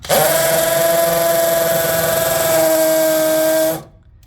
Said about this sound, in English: we are gonna use a drill machine.